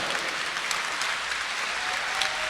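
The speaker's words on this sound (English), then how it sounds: "Let's have a big round of applause." Steady, dense applause from a large convention panel audience, loud and continuous throughout with no voices standing out.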